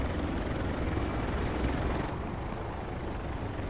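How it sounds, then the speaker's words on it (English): An Apache helicopter overhead in the video game Project Reality, a loud, broad roaring rotor and engine rumble filling the whole stretch at steady strength. "I got enemy chopper above us."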